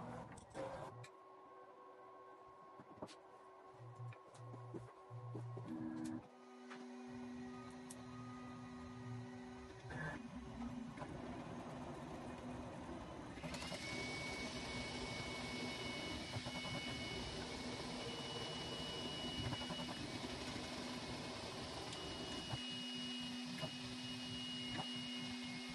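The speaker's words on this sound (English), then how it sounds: "The 3D printer has now started." A 3D printer prints a calibration cube, a steady mechanical whir with stepper-motor tones and a fan hum, rising in pitch and intensity partway through, running alone without voices.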